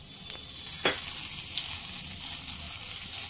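Salted shrimp sizzle in a hot pan over a medium flame, with a steady broadband hiss that runs the whole time and a single sharper crackle near the start. No one speaks.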